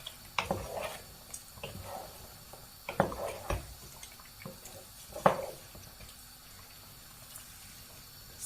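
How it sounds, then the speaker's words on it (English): A spoon stirs Ogbolor soup with bitter leaf in a pot, giving faint, irregular wet clinks and sloshes at close range, scattered with quiet gaps between them. "After you put the bitter leaf, just stir"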